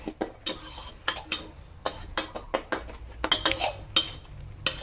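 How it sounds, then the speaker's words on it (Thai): Salted egg chili paste being stir-fried in a pan, with repeated scraping and clinking of a utensil against the pan over a faint sizzle, strokes coming in an uneven rhythm close by. "แล้วก็ผัดทุกอย่างค่ะ ให้เข้ากัน"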